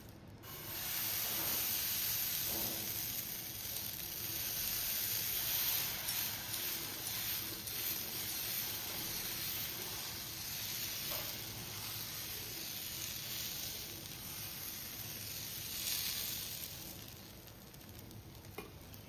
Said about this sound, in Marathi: आता आपण बॅटर टाकूया।